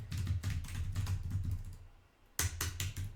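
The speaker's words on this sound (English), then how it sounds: "I'll type that in the main chat here." Keys clatter on a computer keyboard in quick, close bursts of tapping, pause briefly, then resume with a sharp clack and more rapid keystrokes.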